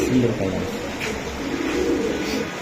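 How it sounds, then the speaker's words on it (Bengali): Soft, low coos from pigeons, including high-flyer racing pigeons, murmur continuously under steady background chatter and rustling at a pigeon market in Old Dhaka, with no clear pauses. "একজোড়া শিলা কবুতর"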